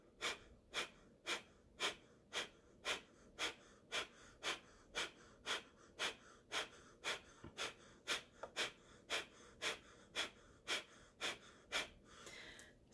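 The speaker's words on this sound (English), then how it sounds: "So breathing in and out of your nose, pumping your navel point, eyes closed, looking at your third eye." Rapid, rhythmic breathing through the nose in the Ego Eradicator exercise, about two sharp forceful breaths per second, quiet and close, continuing steadily with no talk.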